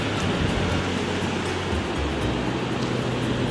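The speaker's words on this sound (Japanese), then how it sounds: "波荒いな" Rough surf breaking on a beach at Kamogawa, Chiba, heard as a continuous loud wash of crashing waves with no voices.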